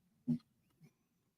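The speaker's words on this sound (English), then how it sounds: "my dog would be barking right now" A dog indoors gives one short, muffled bark followed by a softer second yelp, both faint and somewhat distant against a quiet room.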